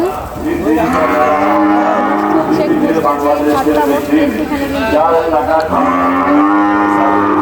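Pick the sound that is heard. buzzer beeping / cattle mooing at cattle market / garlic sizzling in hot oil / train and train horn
cattle mooing at cattle market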